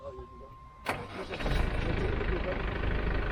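Tractor engine turning a rotovator through its PTO at 540 rpm, working ground for a corn field; a sharp start at about one second swells into a loud, steady mechanical roar that continues to the end, with voices speaking over it.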